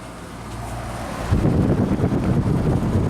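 An Amana HVAC unit at a Fairfield Inn & Suites hotel room in Melbourne, Florida, its fan running as a loud, steady broadband rush that swells stronger about halfway through and keeps going.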